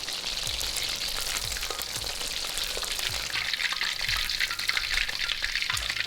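Chicken pieces deep frying in hot oil for sweet and sour chicken, a dense steady sizzle and crackle close up, with soft periodic low thumps beneath.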